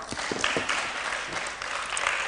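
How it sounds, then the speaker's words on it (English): An audience at a women's workshop applauds, a dense steady patter of many hands clapping at moderate distance that continues throughout the short span. "Mambi, clap for her."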